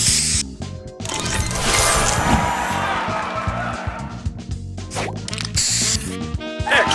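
Spray booster effect in the mobile puzzle game Match Masters, a dense, loud spraying and whooshing burst layered with busy game chimes and pops that runs continuously for several seconds.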